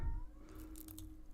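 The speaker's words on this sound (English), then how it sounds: "Oh my god, sorry about my cat." A house cat lets out a brief, faint meow in a quiet room, a single short call over low background rumble with no one speaking.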